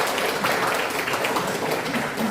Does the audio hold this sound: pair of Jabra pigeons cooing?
no